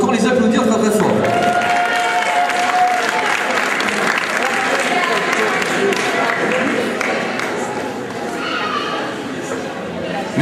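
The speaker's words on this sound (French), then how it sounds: "Pourquoi pas, vous pouvez encore les applaudir très très fort." Applause from an audience at a 2008 sports merit awards ceremony, a dense, steady wash of clapping across the whole stretch that softens slightly toward the end, with crowd noise mixed in.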